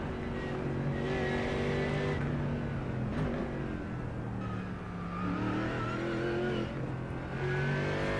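A race car in the 24 Hours of the Nürburgring, heard in a racing game as it works through a corner complex, with the engine note repeatedly rising and falling through downshifts and acceleration, loud and steady with no talking.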